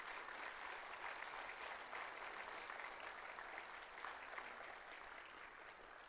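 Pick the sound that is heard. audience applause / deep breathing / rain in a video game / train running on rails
audience applause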